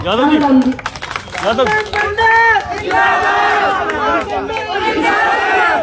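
A protest crowd at a sit-in dharna at the Noida Authority shouts slogans together, loud and close, with overlapping voices rising and falling in sustained chanting waves throughout.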